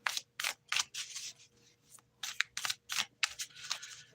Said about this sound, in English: So what I'm going to do here is I'm just going to do some quick shuffling